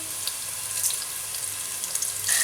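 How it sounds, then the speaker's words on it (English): Onions fry in hot ghee with cinnamon sticks, cardamom, black pepper, cloves and whole cumin, a close, even crackling sizzle with no voices over it. "we're going to cook the onions till they are nice and golden"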